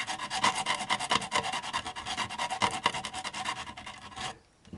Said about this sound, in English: I'm going to come up through the back here and just sand upwards